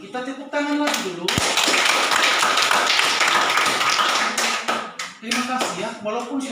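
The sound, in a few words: children clapping again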